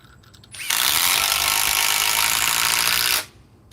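A Metabo HPT triple hammer impact wrench runs in one loud, steady mechanical burst of about two and a half seconds, starting and stopping abruptly against a quiet background.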